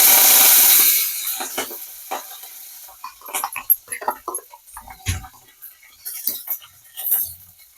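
Curry leaves dropped into hot oil with tempering spices for Nellore karam dosa, giving a loud initial sizzle that quickly dies down into quieter crackling, scattered stirring clinks and light hissing.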